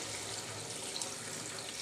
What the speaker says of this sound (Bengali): এবার দিয়ে দিচ্ছি ঝোলের জন্য পানি।